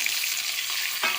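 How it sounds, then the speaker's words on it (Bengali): Onion and potato frying in hot mustard oil in a wok, a steady close sizzle with a brief louder burst of crackle near the end, no voices. "এবার পেঁয়াজ আলু প্রথমে আমি ভেজে নেবো বগু মাছের ঝাল করার জন্য।"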